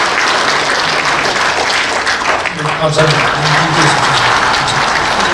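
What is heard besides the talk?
audience applause at a seminar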